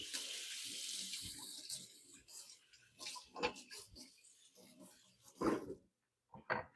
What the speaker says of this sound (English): Give my knife a quick wash.